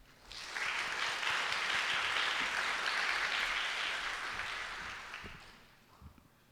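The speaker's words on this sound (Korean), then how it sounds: "우리 나오실 때 큰 박수로 환영합시다" An audience in a chapel applauds to welcome a pastor and school president to the stage, a sustained wash of clapping that swells quickly, holds steady for several seconds, then fades out.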